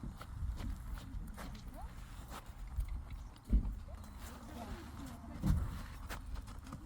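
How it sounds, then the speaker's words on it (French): A horse walks on firm ground, its hooves clip-clopping in a steady, uneven rhythm at close range, with a couple of heavier thuds and faint background voices. "Beau cheval."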